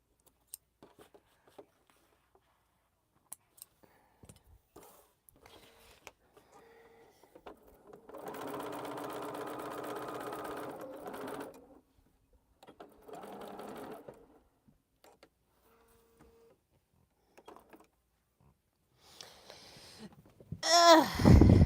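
A sewing machine stitches during a quilting session, with short bursts of stitching, one longer run in the middle and a few brief ones near the end, separated by quiet handling noises and occasional faint talk.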